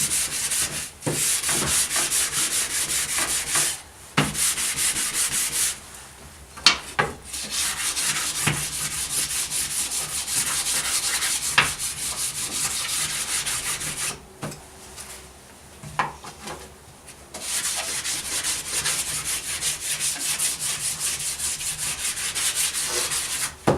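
Broad, steady rasping of sandpaper rubbed over the wooden parts of an Adirondack guideboat under construction, loud and close, with a few brief pauses and light knocks between long continuous strokes.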